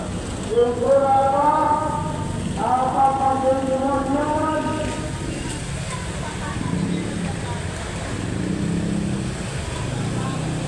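Steady rain falls outdoors on a street that tends to flood, a constant wash of hiss and patter with traffic noise mixed in and a person talking over it near the start.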